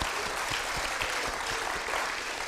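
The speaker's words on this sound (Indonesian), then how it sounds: "tepuk tangan yang meriah untuk Bapak Mudrikan sekali lagi." Studio audience on an Indonesian TV talk show bursts into dense, steady applause for a speaker, loud and unbroken across the whole stretch with no one talking over it.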